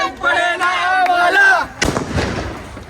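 Firecrackers go off during a Ganpati immersion procession: one sharp, loud bang cuts in after a stretch of voices or tonal music, followed by a noisy crackling tail and crowd sound.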